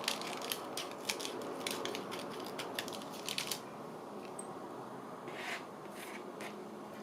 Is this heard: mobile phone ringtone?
no